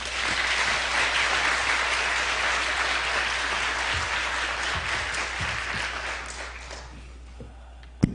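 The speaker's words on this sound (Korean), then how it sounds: "박수로 모시겠습니다." A church congregation applauds to welcome the pastor to the pulpit, a dense sustained wash of many hands clapping that gradually thins and fades toward the end.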